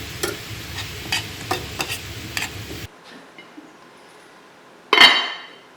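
A spoon stirs beef casserole with garlic in a pan: several quick scraping strokes in rhythm, then a near-silent pause, and a single loud metallic clank near the end.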